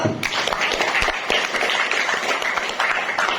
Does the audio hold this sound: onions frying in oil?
no